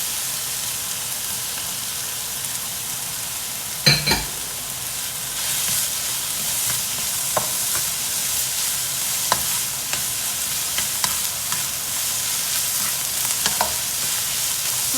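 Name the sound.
stir-frying carrots for Chinese fried rice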